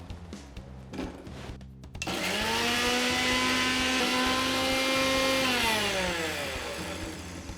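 A mixer grinder starts up with a soft knock and then whirs in a loud, steady whine while grinding ginger and garlic. The motor pitch shifts slightly before it winds down near the end.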